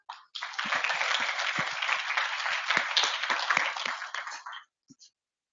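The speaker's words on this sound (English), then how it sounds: "Again, round of applause" Audience applause after a talk at a Data Driven Women meetup, a brief dense round of many hands clapping that starts abruptly, holds steady for about four seconds and then stops, with a few faint claps afterward.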